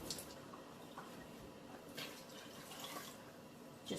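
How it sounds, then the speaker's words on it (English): Water poured into a pot of thick tomato sauce made from canned tomatoes, a steady close splashing trickle running without pause, with a few faint knocks. "I'm also going to add some water."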